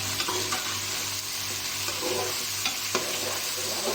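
Steady sizzling of garlic paste frying in a pot, with occasional stirring scrapes and a faint low hum underneath.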